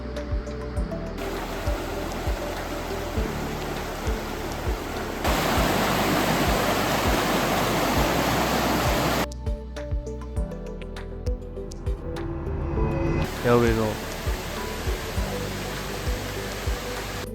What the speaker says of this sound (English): the clean water is flowing directly from the falls